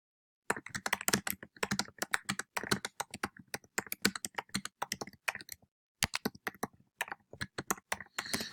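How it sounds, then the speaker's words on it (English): Steady typing on a computer keyboard, close and fairly quiet, a dense run of key clicks with a short pause midway and no talking. "let me get this typed out and then I'll walk you back through it."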